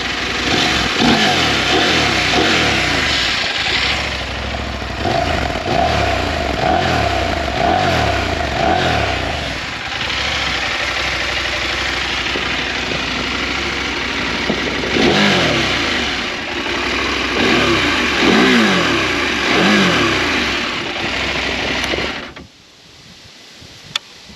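A Husqvarna Norden 901 Expedition motorcycle engine idles and revs up and down close by, steady mechanical rumble with repeated throttle blips, then cuts off abruptly near the end.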